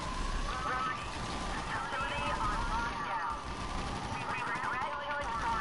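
Continuous rapid machine gun fire from GTA 5 rattles on and on in dense bursts, loud and close, with a voice talking over it.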